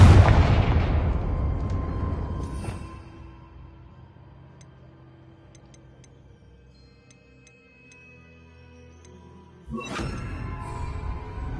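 A Confringo blasting spell explodes in the game Hogwarts Legacy with a loud, close boom that rolls off over a couple of seconds into near quiet, followed by a second burst near the end.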